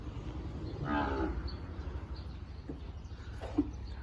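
Brahman cattle low once with a drawn-out moo at moderate distance, followed by quieter shuffling and a brief second call over a low background rumble.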